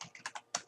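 Seven quick, crisp key clicks come in an uneven rhythm as a command is typed on a computer keyboard, close and quiet with no voices.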